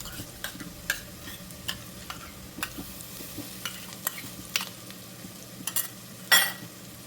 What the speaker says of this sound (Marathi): आता ह्यामध्ये मी घालत आहे आलं लसूण कोथिंबीर मिरचीची पेस्ट